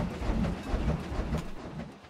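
A train in the park-building game Planet Coaster rumbles past with a low, steady rolling clatter of wheels on track, fairly quiet and continuous, with no voices.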